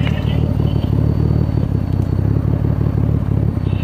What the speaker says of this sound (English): Let's listen to that exhaust note.